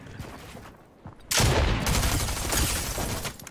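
Submachine gun fire in Fortnite, a dense rapid burst of loud automatic shots that starts abruptly after a brief quieter stretch and continues steadily to the end.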